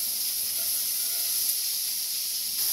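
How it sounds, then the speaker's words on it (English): Onions hit hot olive oil in a pot and give off a steady bright hiss that stays even and fairly close for the whole stretch, with no one talking. "So once your olive oil is heated up, just add your onions in."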